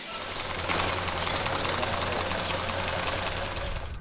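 A homemade grass cutter built from scrap parts runs steadily close by, with a continuous buzzing, rattling engine drone at an even pace, with no talk.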